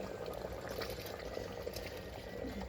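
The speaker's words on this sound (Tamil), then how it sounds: "ஸோ அரிசி இருக்குது, அரிசியை போட்டுருவோம்." Rice is poured into a pot of boiling salted water for prawn biryani, a steady close rush and bubbling of liquid that continues throughout with no talking.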